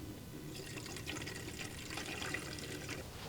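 Simple Green cleaner pours into the soap reservoir of a self-foaming pressure washer, a soft steady trickle of liquid with faint splashing, quiet and close.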